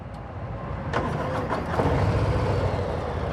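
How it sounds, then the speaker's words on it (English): A 2023 Harley-Davidson Low Rider ST with its 117 engine runs at a fairly subdued, steady rumble that swells slightly after the first second, heard alone without talk. "the engine doesn't give you a lot of sound"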